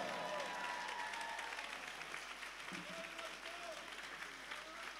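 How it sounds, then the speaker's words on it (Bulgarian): Audience applause at a folk ensemble concert in Yambol, a broad steady wash of clapping lasting throughout, with a few faint tonal sounds drifting over it. "Аплодисменти"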